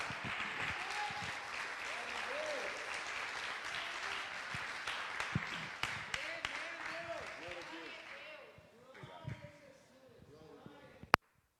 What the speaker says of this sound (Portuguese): Nesses dias, em nome de Jesus, dá um forte aplauso ao Senhor, por favor.